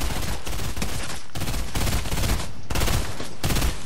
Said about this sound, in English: I'm being shot by everyone here